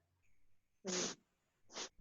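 A small kitten gives two short, close meows, the first louder and longer and the second briefer, in a quiet room.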